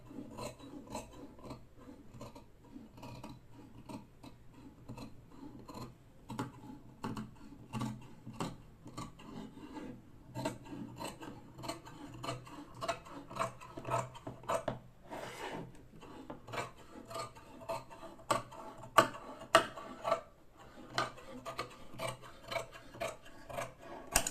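Scissors cut through churidar dress fabric in a steady run of crisp snips and rasping drags, close and fairly quiet, with the clicks growing sharper and more frequent toward the end; no one speaks.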